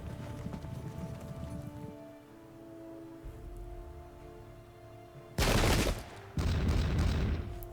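Musket volleys crack out in a loud burst near the end of a battle in the tactical strategy game Pike and Shot Campaigns, after a stretch of quieter ambient game sound, with a short gap between two heavy bursts of fire.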